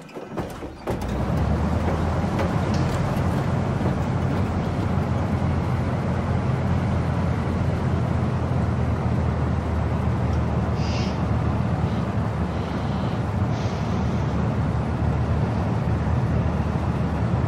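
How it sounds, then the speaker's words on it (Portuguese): Cessna 172 engine in the X-Plane flight simulator: a short starter crank, then the engine catches and settles into a steady loud drone with a few faint clicks. "Dei partida no motor."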